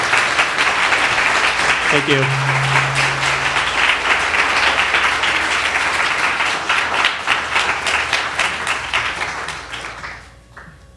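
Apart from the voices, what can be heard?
audience applause for a speaker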